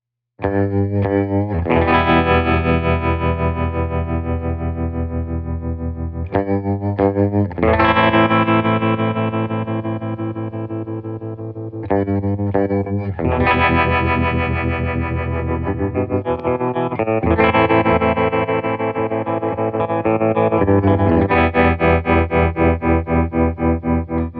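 Electric guitar chords strummed through a Fender Tre-Verb tremolo pedal cycling its three modes, sustained ringing chords throbbing and pulsing in rapid amplitude waves, loud and close without speech.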